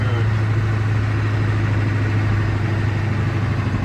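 A 6.9 IDI diesel engine fitted with a cheap eBay turbo runs steadily and loudly up close, a constant low rumble with a broad whooshing hiss and no change in pace throughout.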